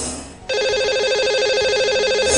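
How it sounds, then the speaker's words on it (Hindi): An outgoing telephone call to a radio show listener rings once, opening with a short dial-tone burst and then a loud, steady electronic ring tone held alone for about two seconds. "तो इनको अब लगाएंगे हम कॉल और इनसे बात भी करेंगे।"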